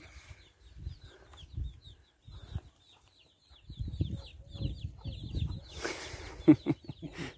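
Chickens clucking close by in a rural farmyard along a French walking trail, with soft intermittent clucks and chirps, a brief flurry of wing flapping near the end.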